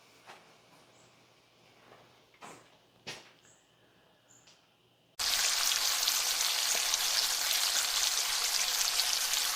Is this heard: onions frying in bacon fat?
yes